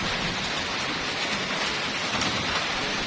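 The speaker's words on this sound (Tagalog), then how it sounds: "Subutin na isilong na natin dahil nga ang ulan ngayon is biglaan." Heavy rain pours down steadily outdoors on a goat farm, a dense, constant hiss with no pauses and no voices.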